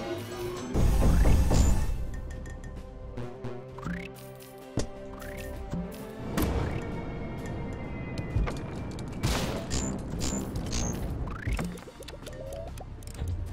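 Cannon Brawl battle effects play out as a busy stream of cartoonish pops, booms and sliding whistles, with a heavy low thump early on and scattered bursts that continue throughout.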